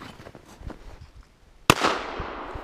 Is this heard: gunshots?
yes